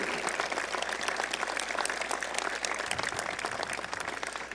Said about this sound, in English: give another round of applause for Professor Simons